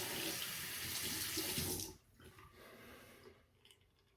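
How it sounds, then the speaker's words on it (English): A tap runs hard into a sink while a razor is rinsed after a head shave, then cuts off abruptly, leaving faint drips and small clinks in a quiet room. "Quick rinse."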